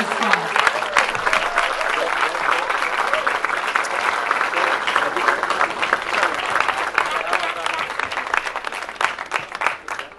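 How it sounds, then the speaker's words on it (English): Loud, close applause and cheering from a crowd at the opening of India House in Paris during the Olympics, with whoops and shouts rising over dense clapping. "A big cheer for her,"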